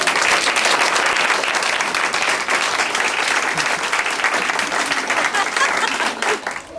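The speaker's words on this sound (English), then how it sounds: "Let's give her a round of applause" An audience applauds in honour of a woman at a July 2009 gathering, a loud, sustained wall of clapping from many hands that holds steady throughout and eases slightly toward the end.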